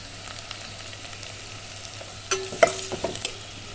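Onions and turmeric fry in a pan for a lentil dish, with a soft, steady sizzle underneath and a few light clinks and scrapes of stirring near the end, without any speech.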